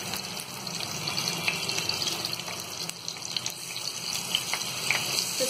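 Mutton chop pieces laid into lightly heated oil in a pan give a steady, continuous sizzle with faint crackles, running alone without talk.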